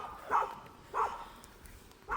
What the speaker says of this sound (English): And someone has a dog.